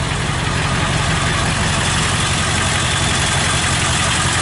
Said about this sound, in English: So I've started the engine